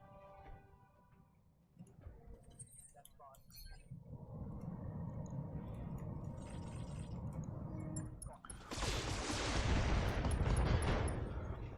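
A mech in the Battletech video game takes a shot at enemy vehicles, heavy blasts and a loud sustained roar building in the second half, with game sounds and voices underneath.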